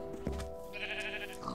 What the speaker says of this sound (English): I'm killing one of these sheep